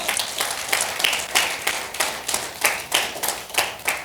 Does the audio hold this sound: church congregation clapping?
yes